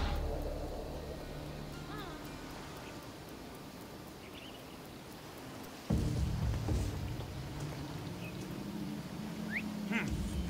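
A bird quacks in Assassin's Creed Odyssey, short duck-like calls and chirps scattered over a rustling outdoor ambience that grows louder partway through.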